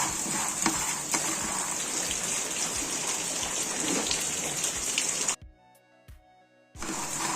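Steady dry crackling and hissing from chickpeas roasting in a hot pan, dense and continuous, then breaking off into near silence before resuming.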